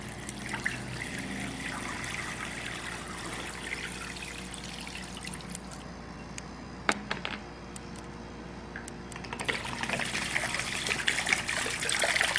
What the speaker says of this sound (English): we're gonna go ahead and submerge this iPhone 4